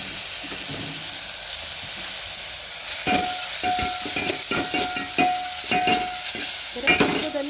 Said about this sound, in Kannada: ಒಂದೇ ಒಂದು ನಿಮಿಷ ಈ ಥರ ಹುರ್ಕೋಬೇಕಿದೆ ತುಪ್ಪದಲ್ಲೇ